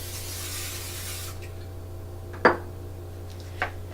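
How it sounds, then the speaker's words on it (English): A short hiss of aerosol spray at the start, followed by two light clinks of metal against a pan. "so you get our pan and we spray it."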